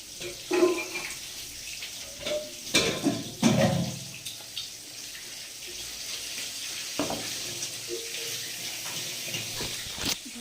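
Dishes being washed under a running kitchen tap, water splashing and clattering in uneven bursts with a louder splash early on, then a softer steady flow, close by with no talk.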